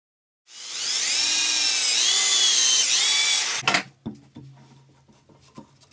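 A power drill whines steadily for about three seconds, pitch wavering as it bites into green wood for a woodturning bowl blank, then stops, followed by a few scattered knocks and clatters.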